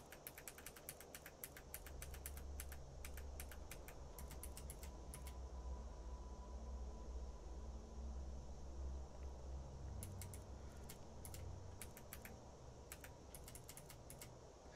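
Quick bursts of computer keyboard and mouse clicking during a Skyrim play session come in clusters near the start and again toward the end, faint and crisp over a steady low hum.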